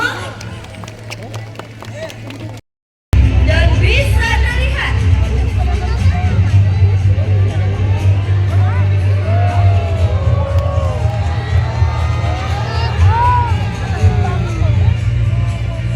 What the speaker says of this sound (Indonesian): Boleh dong kasih semangat tepuk tangannya dulu